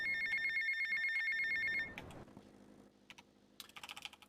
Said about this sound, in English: Now we're going to take this phone call here from Sunny